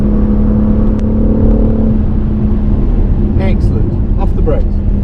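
Engine drone of a car on the Goodwood track, rising and shifting as it accelerates, heard from inside with a voice talking over it.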